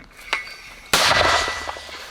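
An artillery gun fires a single loud, sharp shot that rings out and decays, preceded by a faint metallic clang; no talk.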